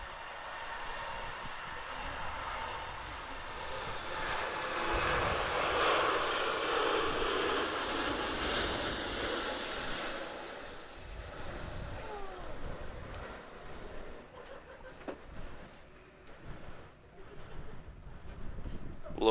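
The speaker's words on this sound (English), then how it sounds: "Have a look at the wing flex as this rotates and climbs out of the runway." An airliner rotates and climbs out from Manchester Airport in wind and rain, its engine roar swelling to a broad peak at mid-distance and then fading away beneath ongoing commentary.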